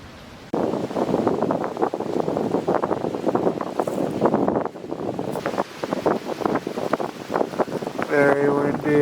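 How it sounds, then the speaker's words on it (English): Strong, cold wind buffets the microphone in loud, continuous gusts outdoors at night, with a brief rushing roar near the end. "Very windy,"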